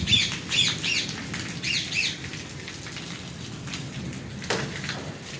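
A pet parrot squawks in bursts of harsh calls over steady heavy rain falling in Sargodha, the squawks loud and close early on, with the downpour hissing continuously beneath.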